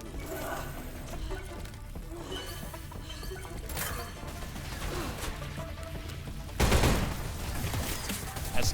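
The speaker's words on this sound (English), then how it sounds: "That's not the only guy firing at me." Enemies open fire in the sci-fi shooter Selaco, a steady chatter of rapid shots and clanking that ends in a sudden, louder burst of gunfire.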